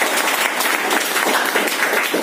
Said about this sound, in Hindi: जबरदस्त ताली